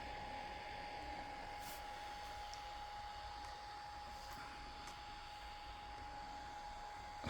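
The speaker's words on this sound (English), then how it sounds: "I'm just moving the drone manually." A DJI Mini 3 Pro drone hovers close by, its propellers putting out a steady, broadband whirring buzz with a thin constant whine, unbroken throughout with no talk.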